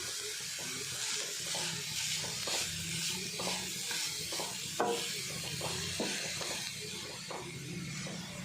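Grated cabbage and carrot being stirred in a hot pan, a steady soft sizzle and hiss with regular scraping strokes of the spoon, close and fairly quiet, with no talking.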